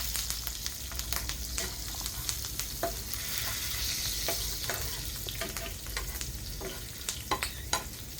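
Green chillies and onions fry in a pan with a constant hiss of sizzling oil, broken by scraping stirs and scattered sharp crackles and pops, close up and with no talking.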